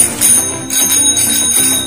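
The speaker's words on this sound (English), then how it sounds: "Ano yan, yung bell?" A toy bell rings bright and metallic several times in quick succession, close and fairly loud, with no talking over it.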